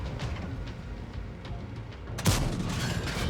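A single loud tank cannon shot in the World of Tanks game cuts through steady rumbling battle ambience, followed by a lingering blast tail.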